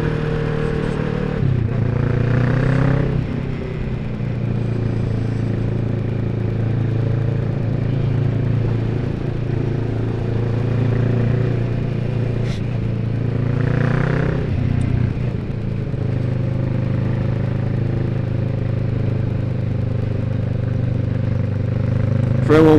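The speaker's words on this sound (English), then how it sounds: "why my motorbike sounds like this, like why it's got a bit of a boom to it and a bit of a rumble" A motorbike engine rumbles steadily and deep, droning close and loud for the whole stretch, with a couple of brief throttle swells.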